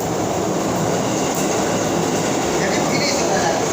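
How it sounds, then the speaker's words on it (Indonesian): A train rolls past close by, a steady loud broadband rumble and rush lasting throughout without clear clacks or breaks. "Ada kereta lewat."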